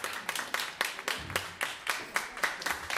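Concert audience applauding after a live band performance, a short burst of rhythmic, fairly close hand claps that rise and fall in beats.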